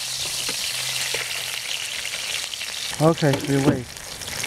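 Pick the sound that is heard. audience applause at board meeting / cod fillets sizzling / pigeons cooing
cod fillets sizzling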